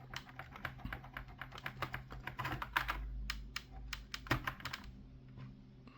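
Rapid clicking of keys on a computer keyboard, close by, with uneven bursts of typing and a brief pause in the middle.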